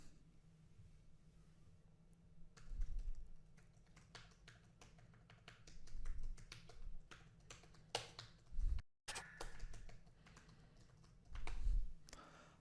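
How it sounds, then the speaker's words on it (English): Soft, muted key taps from a low-profile keyboard patter steadily, quiet and close, with occasional slightly louder clusters of keystrokes. "let me show you how it sounds"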